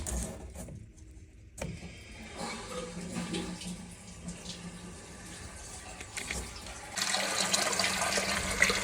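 Water rushing into the cistern of a newly installed toilet pack after the supply is opened, a steady close hiss and gurgle that grows louder and brighter toward the end.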